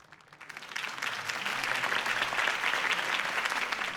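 In the video game Batman: The Telltale Series, a crowd breaks into applause that quickly swells and holds, a dense, steady wash of many hands clapping.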